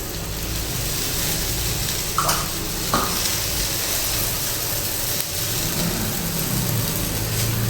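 Matar thalipith frying in a little oil on a pan: a steady, close sizzle and crackle throughout, with two small knocks partway through and no talking.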